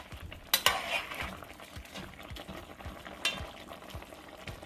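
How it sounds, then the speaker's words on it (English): Stirring Canadian beef stew in a pot, a few clattering scrapes of a utensil against the pot over a low, steady simmer and sizzle, close and without talk. "give it another stir and see our beef is coming along"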